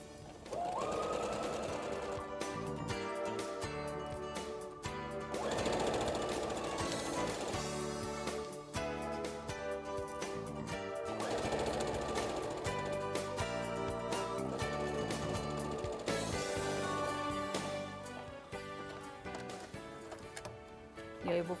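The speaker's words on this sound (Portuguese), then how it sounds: "E aí eu vou para a máquina de costura, de novo." Sewing machine stitching a seam, running in repeated bursts of rapid mechanical clatter with short pauses between, close and fairly quiet, with background music playing throughout.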